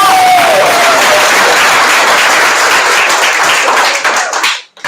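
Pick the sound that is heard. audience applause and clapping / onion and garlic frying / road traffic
audience applause and clapping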